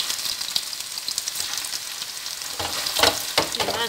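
Meatballs fry in hot oil in a pan, giving a steady, close, bright crackling sizzle with a few louder pops and scraping stirs toward the end, with no voices.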